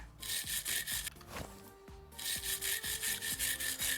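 Rust is scrubbed off a car by hand in rapid, rhythmic back-and-forth strokes, close and abrasive, with a short pause near the middle before the steady scrubbing resumes; no one speaks.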